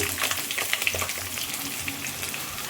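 Roasted gram, garlic cloves, a piece of ginger and small onions fry in a pan for a green brinjal gravy, giving a continuous close crackling sizzle dotted with sharp little pops, with nobody talking.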